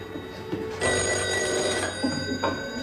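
Telephone ringing in a French drama, a close, loud bell-like ring that starts sharply and sustains with a steady tone, with a faint knock beneath before it begins.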